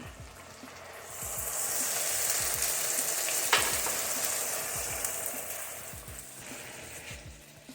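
Wine poured onto garlic in a hot pan for a summer squash dish sets off a rising burst of sizzling hiss that holds steady and close, with faint scattered knocks and one brief louder crackle midway.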